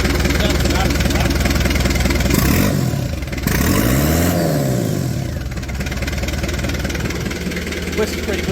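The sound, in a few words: 1994 Daihatsu Rocky engine revving through new stainless straight-through exhaust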